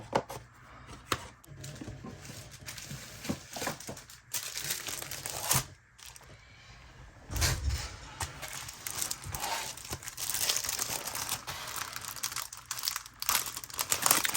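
Tissue paper for a round fairy journal craft crinkles and rustles close by in irregular bursts, with brief pauses between handlings.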